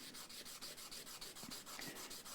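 Rhythmic rasping strokes of sandpaper on a jig rubbing against a Fender Stratocaster guitar part, evenly paced back and forth, close and fairly quiet with no talking.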